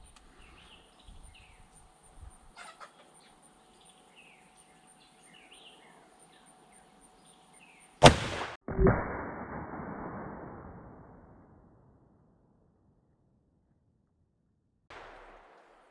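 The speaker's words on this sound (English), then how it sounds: "we're just going to try to shoot through it without turning our gun sideways" A single sharp lever-action rifle shot fired through a hole in a target outdoors, a loud crack followed by a long rolling echo that fades away, with faint birds and insects before it and a brief metallic sound near the end.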